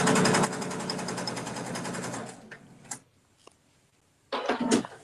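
A sewing machine runs in a loud, continuous whir while stitching rainbow-weave fabric placemats, then cuts off into near quiet broken by a few soft clicks before a short burst of running resumes at the end.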